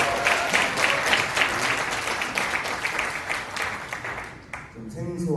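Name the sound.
big round of applause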